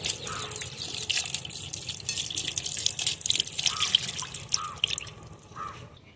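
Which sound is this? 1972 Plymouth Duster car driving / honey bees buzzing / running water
running water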